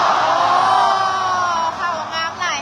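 Crowd of supporters cheering at a W.I.G NAGA match with Laos, a dense, loud roar of many voices with whoops and yells, sustained and slightly dipping toward the end.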